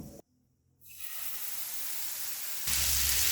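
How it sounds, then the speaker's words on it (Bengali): A spice paste of ground coriander, cumin and Kashmiri chilli powder hits a hot pan and bursts into a loud, steady sizzle after a brief silence, then swells even louder near the end. "এবার এর মধ্যে ধনে জিরে আর কাশ্মীরি লাল লঙ্কার গুঁড়ো দিয়ে যে মশলাটা রেডি করে রেখেছিলাম সেটা দিয়ে দেব"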